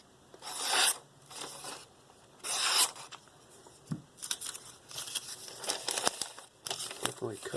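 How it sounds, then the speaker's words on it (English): A Spyderco Paramilitary 2 folding knife with an S30V steel blade, freshly sharpened, slices through a sheet of paper in several short, crisp crinkling and rasping bursts with quiet pauses between the cuts. "Definitely cuts through the paper nice and clean."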